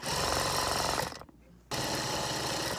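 Sewing machine running in a steady fast mechanical buzz while edge-stitching the tie of a gown made from a bed sheet, pausing briefly midway before resuming at full speed.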